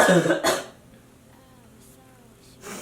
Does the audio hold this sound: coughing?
yes